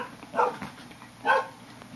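A dog barks twice in quick succession, two short moderately loud barks a second apart against a quiet background.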